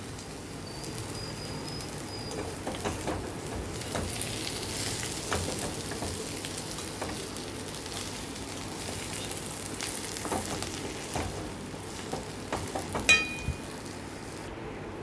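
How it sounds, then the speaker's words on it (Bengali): Stuffed bitter gourd sizzles and fries steadily in a pan, with occasional scraping clicks and knocks as it is stirred, and faint chirping in the background. "ধনে পাতা কুচি দিয়ে এটাকে এইভাবে একটু নাড়াচাড়া করে রান্না করে নেবো"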